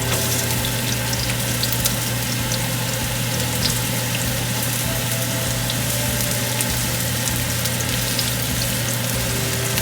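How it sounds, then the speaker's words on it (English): Onion sizzling in olive oil in a soup pot, a dense, steady frying hiss with crackle, loud and continuous with no talk. "We'll start with olive oil. And I'm going to put the onion first."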